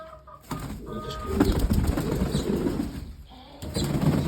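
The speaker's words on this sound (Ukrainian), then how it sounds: "Ой, голуби." Pigeons flapping and shuffling close by, with soft cooing and rustling throughout, plus a few thin whistling tones at the start.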